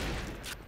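A dense burst of rapid gunfire in the Point Blank shooter game, loud and continuous through a brief moment with no gaps between shots.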